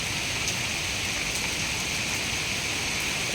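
Heavy rain falls as a steady, dense hiss with no break, fairly loud and close, with no voices.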